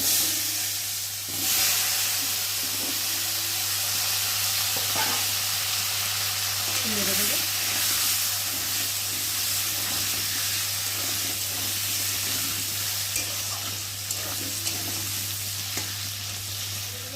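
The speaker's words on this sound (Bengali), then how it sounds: "ছোটো ছোটো কেটে রাখা আলুগুলোকে দিয়ে ভালো করে ভেজে নেব" Potatoes fry in hot oil with a steady, even sizzle, broken by occasional stirring scrapes over a low background hum.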